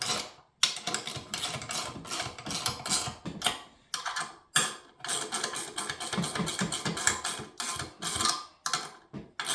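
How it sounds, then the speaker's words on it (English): A 7/16 inch wrench tightens nylon lock nuts up close with rapid, irregular metallic clicking and ratcheting, broken by brief pauses between bursts of turning. No one talks. "This is a 7/16 inch wrench, and you're going to tighten those down."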